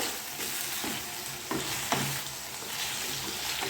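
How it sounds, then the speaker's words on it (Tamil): Chopped tomatoes cook down in a pan for chutney, sizzling steadily up close, with a few distinct scrapes and clacks of a spoon stirring through them. "தக்காளி நல்லா பச்சை வாசனை போகிற அளவுக்கு வதங்கி வரணும்"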